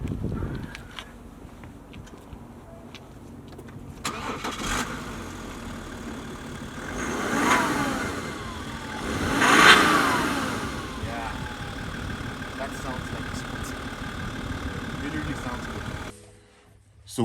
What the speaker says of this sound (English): let's check out how this BMW sounds